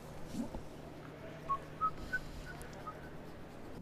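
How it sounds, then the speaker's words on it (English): A few short, faint whistled notes rising in pitch, somewhat distant, over a quiet room-noise background. "Oh, somebody's happy. There's whistling."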